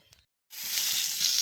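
Chili frying in hot coconut oil in a heated pan for stuffed squid: after a brief quiet start, a loud, steady hiss and crackle begins suddenly and continues to the end, with no talking.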